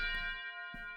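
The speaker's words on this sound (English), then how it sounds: "This is the sound of a funeral bell." A distant funeral bell rings, its long sustained metallic tone hanging in the air with a soft strike at the start and another near the end, faint and alone with no talking.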